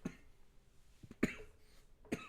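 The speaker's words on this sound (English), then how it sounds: "So if you hear me coughing in the background" Two short, sharp coughs sound faintly against a quiet background, spaced about a second apart, with a smaller throaty sound before them.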